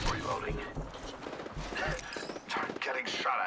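Gunfire in Apex Legends: repeated shots crack and thud through a busy mix, with bursts of fire coming in close succession amid game noise and a voice speaking over them.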